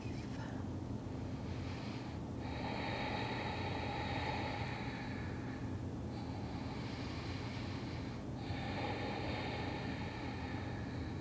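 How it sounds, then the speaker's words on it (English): Ujjayi yoga breathing makes a steady, rushing oceanic hiss that swells and fades in long, slow cycles, with a few distinct breaths close up and unbroken by speech. "The victorious breath, or this oceanic sounding breath."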